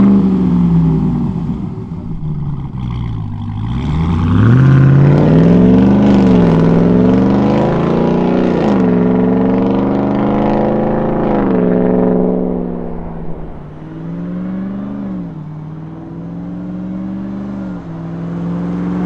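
A Ram 1500 TRX pickup with an MBRP 3-inch cat-back dual rear exit exhaust revs up loud and deep, climbing and falling through several throttle blips before settling into a rumbling idle, close to the microphone.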